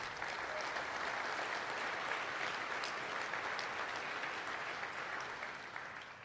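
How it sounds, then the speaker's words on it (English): Audience applause at a livestock auctioneer championship awards ceremony, a dense sustained wash of clapping from a crowd that holds steady and then gradually fades, with no voices over it. "give them one more big round of applause"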